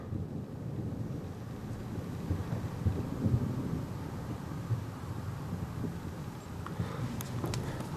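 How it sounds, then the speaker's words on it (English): Thunder from a thunderstorm over Scarborough, UK, heard as a long, low rolling rumble at a distance, blended with steady wind noise on the microphone and no talking. "Oh yeah, so the thunder seems to be around there."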